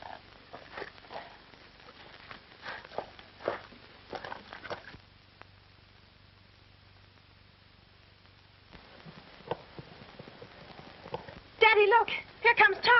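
Horses stampede on a western film soundtrack. Bursts of clip-clopping hoofbeats come at the start, fade into a quiet stretch, then return loud and fast near the end, with voices mixed in.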